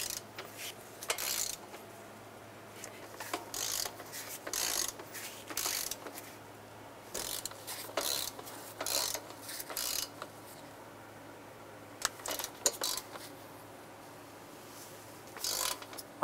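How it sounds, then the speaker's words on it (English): A torque wrench tightening the nuts and bolts on a 2000-2006 Toyota Tundra during a knock sensor replacement, giving repeated close ratcheting clicks in short bursts with pauses between passes. "In multiple passes, we're going to torque the nuts and the bolts down to 13 foot-pounds."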